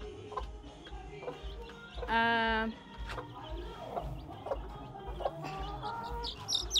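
Local chickens cluck in short bursts with one louder, drawn-out squawk in the middle, set against a steady low background hum and scattered farmyard noise.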